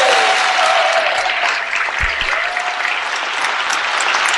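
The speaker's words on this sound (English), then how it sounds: "The next sound we hear, which will sound like soft rain on a tin roof, will be an enormous round of applause for you." An enormous round of applause from a conference audience for a professional speaker, a dense, even roar of many hands clapping like soft rain on a tin roof, loud and sustained throughout with no talk.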